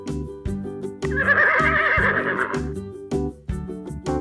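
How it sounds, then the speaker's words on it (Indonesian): A zebra's braying whinny rises over a looping musical backing, with a long, wavering high call in the middle. "kuda zebra"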